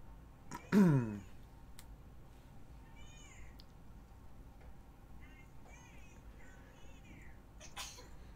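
One sharp, loud human sneeze bursts out near the start, then gives way to quiet room tone with faint, high chirping sounds.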